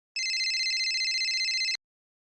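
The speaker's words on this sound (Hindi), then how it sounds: "फोन आ रहा है" A phone ringtone sounds alone as a single steady, rapidly pulsing electronic tone, held for about a second and a half before cutting off abruptly.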